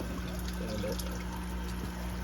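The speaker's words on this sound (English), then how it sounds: "So the water's gonna start going back to the tank." Water trickles and flows back through clogged pipes toward a tank, a continuous low gurgling wash that holds steady throughout without voices.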